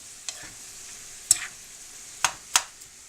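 A lasagna sauce mixture seasoned with adobo gets stirred in a pan over a soft background sizzle, with three or four sharp spoon clinks against the cookware standing out, and no talk.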